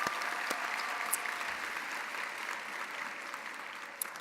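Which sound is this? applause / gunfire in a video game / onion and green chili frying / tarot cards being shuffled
applause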